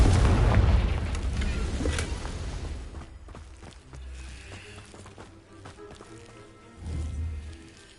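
A Confringo fire spell explosion in Hogwarts Legacy booms loudly at the start, a dense roaring blast that fades into rumbling game effects, with another lower thump later.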